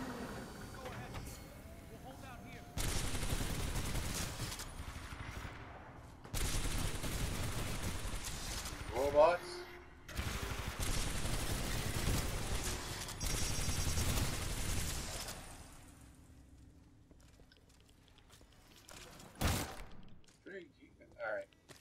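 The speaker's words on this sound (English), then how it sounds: "Oh, this gun is crazy." Gun firing in Titanfall 2, several long sustained bursts of rapid automatic fire, loud and close, separated by quieter gaps with some talk.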